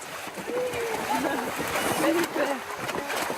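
Horses splash and play in the water of a mountain lake in Auvergne, with steady splashing and sloshing at moderate distance while voices talk over it.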